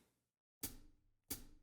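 Two faint, isolated hi-hat hits from the start of a song, each a short bright tick that quickly decays into near silence, spaced well apart.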